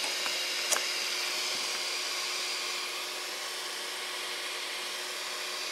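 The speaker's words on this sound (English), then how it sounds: "so that means the air is coming out now if I plug my welding iron" Steady airflow hiss from a soldering iron converted into a hot air gun, broad and even throughout with one small click near the start, close and moderately loud, no talking.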